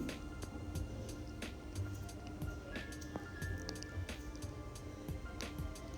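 Egg gravy being stirred after garam masala powder is added, soft wet squishing and scraping in a pan under a steady background hum, repeated spoon strokes at close range.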